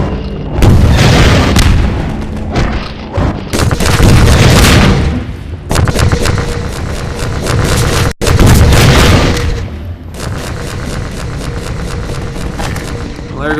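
Rocket launcher explosions in Half-Life 2 boom loudly and repeatedly in a dark combat scene with a Strider attacking, heavy low-end blasts in bursts separated by brief lulls, with someone talking over them.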